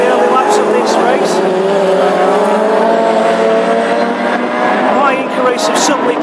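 Classic Hot Rods race cars run the early laps of a heat at Birmingham with a continuous, loud engine drone and shifting pitch. A commentator talks over the cars throughout.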